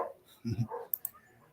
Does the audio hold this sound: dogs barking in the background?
yes